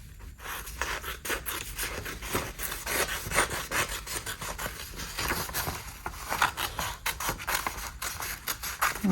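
Small kid scissors snip through paper pattern pieces for a quilted dog treat toy, giving a steady run of close, crisp rasping cuts with short pauses between strokes.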